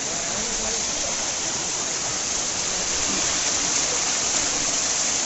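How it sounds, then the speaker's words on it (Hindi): Waterfall at Rani Jharna in Korba, with water pouring down from many points at once, making a steady, loud, even rush of falling water that fills the whole scene from start to finish. "जगह जगह से पानी आ रहा, मज़ा आ रहा देखते।"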